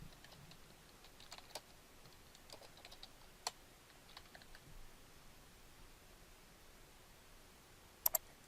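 Sparse computer keyboard typing while entering a description in a WordPress editor, a few scattered quiet key clicks with a short burst near the end, alone in a quiet room.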